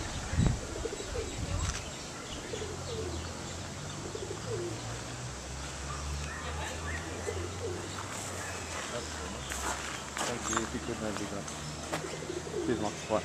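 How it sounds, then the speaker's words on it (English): A pigeon sitting on the floor beside a large door at Featherdale wildlife park coos softly in low repeated phrases, with chirps from other birds and people talking nearby. "Look at the pigeon sitting down on the floor."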